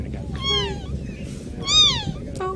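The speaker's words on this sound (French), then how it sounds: "C'est un chaton, il a 9 jours" A nine-day-old kitten gives two clear, rising-and-falling meows about a second apart, with a fainter third cry at the end, all over a low, busy background murmur.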